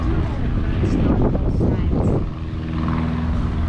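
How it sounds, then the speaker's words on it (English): An airplane takes off in the Florida Keys with a broad, rushing engine roar and wind buffeting the microphone, while people talk close by. "There's an airplane taking off."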